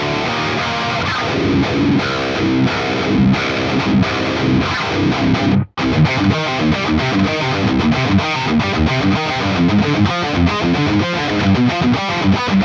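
Heavily distorted electric guitar played through an STL Tones Driftwood amp plugin, loud and dense with tight, percussive chugging riffs, a brief full stop near the middle before the playing resumes.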